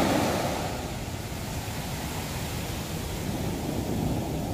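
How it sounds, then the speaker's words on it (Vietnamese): Big sea waves surge and wash up a beach in Nha Trang, a steady loud roar of broadband surf with rushing water and light wind buffeting, continuous throughout with no voices. "Mọi người sóng lớn nè."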